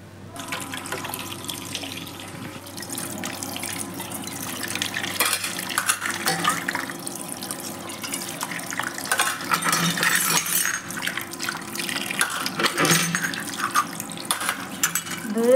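Water runs from a tap into a sink while things are washed and cleaned, with light clinks of dishes and glass under a steady, moderately quiet splash that builds toward the end.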